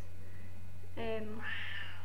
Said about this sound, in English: Please excuse the cat, by the way.